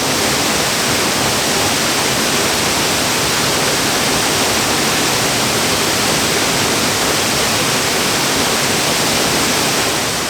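A loud, constant roar of rushing water, unbroken and steady from start to finish, like a waterfall heard up close.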